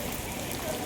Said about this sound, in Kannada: ಈಗ ನೋಡ್ ಮಳೆ ಹೆಂಗ್ ಬರ್ತಾ ಇದೆ